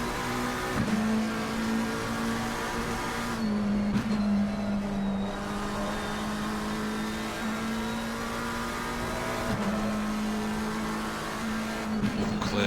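Race cars in a Silverstone multiclass sim-racing broadcast, a pair of McLarens battling wheel to wheel, engines droning steadily at high revs with brief gear-change dips and a faint whine, loud and continuous with no talk.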